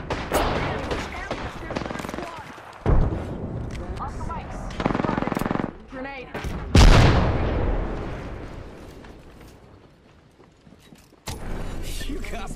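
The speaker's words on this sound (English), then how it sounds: "Opening fire." Automatic gunfire in the Apex Legends shooter on PS4: loud bursts of rapid shots and sharp impacts come in several clusters, with a heavy blast near the middle, while a voice talks between the volleys.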